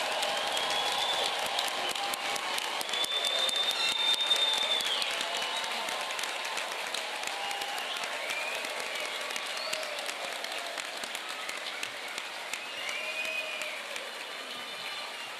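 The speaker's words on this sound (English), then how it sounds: "Let's give a round of applause for all of our graduating class of 2026." Large ceremony audience applauding the graduating class at a health professions hooding and recognition ceremony, a long, steady roar of clapping in a big hall that gradually eases.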